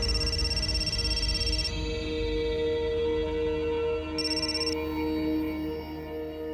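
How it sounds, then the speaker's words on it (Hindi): A telephone ringtone rings in a Marathi TV serial scene, a steady repeating electronic melody with a sustained tone cutting in and out over a constant background hum. "सत्या, अम्माजींचा फोन."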